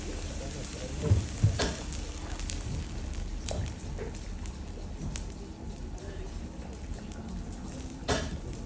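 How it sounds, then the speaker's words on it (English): Lava sizzles with a steady crackle, with sharp pops and small bursts scattered throughout as steam from ice escapes through it, a few louder cracks standing out against the continuous hiss. "The steam, basically from the ice, trying to escape through our lava, giving us these lava bubbles or lava explosions."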